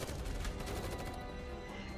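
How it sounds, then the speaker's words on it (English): Dense, sustained gunfire from a violent firefight in the video game Nikke: Goddess of Victory, with loud continuous crackling bursts and crashes filling the full two seconds without any talk. "Gunfire explodes, tearing through the air"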